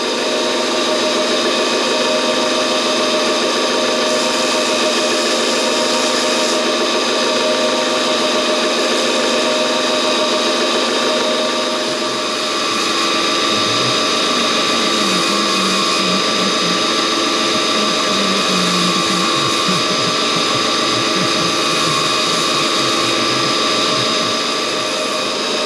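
Clutch plates from a Ducati M900 are deburred with a power tool, giving a loud, steady, high whining grind that runs continuously, with rougher scraping bursts entering partway through and no speech.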